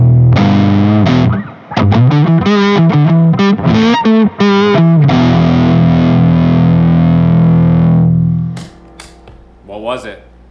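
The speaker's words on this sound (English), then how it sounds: "It was definitely distortion." Electric guitar riff played through a distortion effect, loud and gritty, with chugging repeated chords, choppy stabs and a long sustained chord that cuts off, followed by brief talking.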